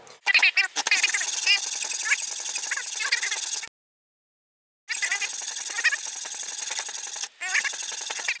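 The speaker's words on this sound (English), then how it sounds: "you take your hacksaw, line it up with this" Hacksaw cutting through the casing of a Delta 78 lens array, a steady rasping scrape in long continuous runs, close and loud, with a short pause in the middle before the sawing resumes.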